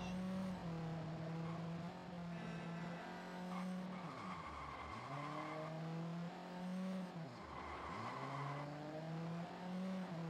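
A car in the video game Watch Dogs drives along the road, its engine droning and rising in pitch as it accelerates, with gear shifts and tire squeal, steady and fairly close with no talking.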